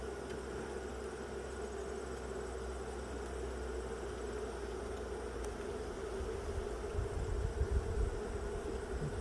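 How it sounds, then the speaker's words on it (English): Worker honey bees buzz steadily at an open hive, a dense continuous drone close by that swells slightly louder near the end, with no talking. "worker bees"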